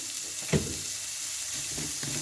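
Carrots frying on a medium flame in a pan for Afghani pulao, a steady close hiss of sizzling oil with a couple of brief stirring knocks, no voices.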